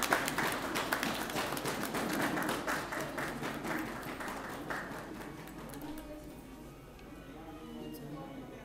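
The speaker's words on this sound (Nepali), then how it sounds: "ताली हानेर सहयोग गरिदिनु अनुरोध गर्छु।" Audience applause at an annual general meeting ceremony, a dense patter of clapping that gradually thins and fades out toward the end, with some background voices.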